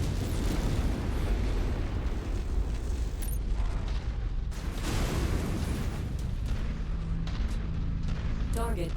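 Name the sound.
missile explosions in the MechWarrior 5 Mercenaries video game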